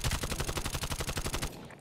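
A rapid burst of AK-74 automatic fire in Call of Duty: Black Ops Cold War on the Crossroads Strike map, roughly a dozen sharp, evenly spaced shots at close range, then a brief fade-out.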